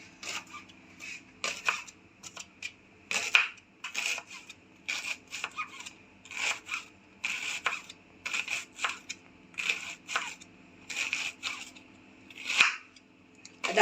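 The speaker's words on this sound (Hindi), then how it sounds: "बंद गोभी को बारीक बारीक काट लेंगे, बहुत बारीक बारीक काटेंगे इसको।" A knife finely chops cabbage for a mixed vegetable raita, giving rapid crisp crunching strokes in irregular bursts with short pauses, close and clear, with no talking.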